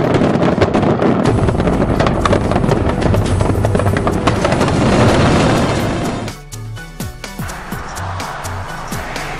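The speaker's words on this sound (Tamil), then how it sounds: "வான வேடிக்கைகளை கண்டு வியந்த சுற்றுலா பயணிகள்" New Year fireworks display at the world's tallest building: a dense, continuous roar of crackling bursts and booms heard from a distance, easing after a few seconds into scattered sharper pops and rumbles amid crowd and wind noise.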